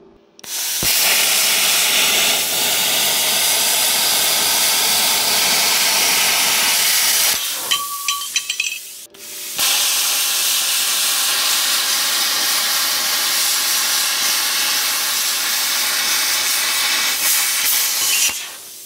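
A Simder SD-4050 Pro welder cuts metal at 30 amps, giving a loud, steady hiss that runs for several seconds, breaks off briefly, then resumes just as strongly and holds to the end.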